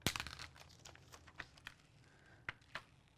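Excess sticker paper is peeled off its backing in quiet, close crinkling and tearing bursts, a sharp rip at the start followed by several softer crackles.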